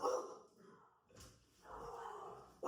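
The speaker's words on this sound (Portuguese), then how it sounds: "Eita, a cachorrada tá aqui." Several dogs barking in bursts nearby, with a brief quiet gap between volleys.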